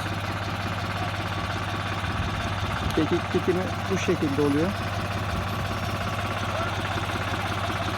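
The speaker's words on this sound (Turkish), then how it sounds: "Traktörümüz çok yavaş bir şekilde sürüngen viteste." A tractor engine in creeper gear idles in a low, steady rumble throughout while someone talks briefly over it, during thyme planting in a field.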